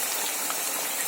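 Gobi Manchurian fries in oil over a medium flame, a brief, even wash of hissing sizzle heard up close.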